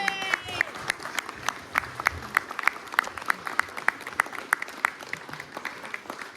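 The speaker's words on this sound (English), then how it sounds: "can we give another round of applause to Jean-Marc over there?" Audience applause for a pilot in a large gathering, a steady patter of many hands clapping at moderate level with sharp individual claps standing out, no voices over it.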